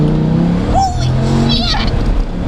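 A Dodge Viper accelerating hard from a green light gives a loud, continuous engine roar that holds for the whole stretch, with excited voices over it.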